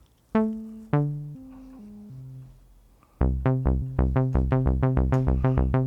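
A plucky synth bass plays a few sustained notes, then a fast, bouncy repeating pattern of short punchy tones, clean and alone.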